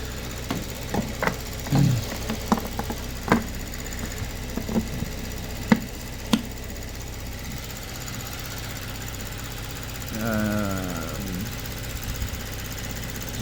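A Kia Stinger with low fuel pressure runs its fuel pump at a faint, steady hum, punctuated by scattered clicks and knocks, with a short louder whir near the end.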